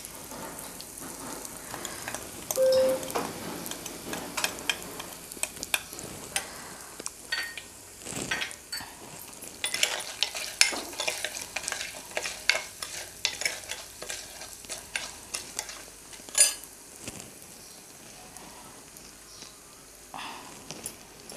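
Spices with asafoetida fry in hot oil as the tempering for tamarind rasam, a soft crackling sizzle under intermittent stirring and light scrapes of a utensil against the pan, with sharper pops now and then.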